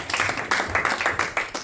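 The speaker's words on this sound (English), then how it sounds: "Can you give a round of applause, please?" A brief burst of audience applause at a tech summit: quick, rhythmic claps under a broad, fairly loud crowd wash.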